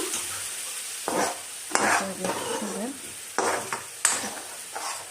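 A spatula scrapes and stirs dry spices—chicken curry masala, salt, turmeric, coriander powder, a little sugar and chili powder—in a hot kadai for egg curry, with soft sizzling and intermittent sharp scraping strokes, fairly quiet and close.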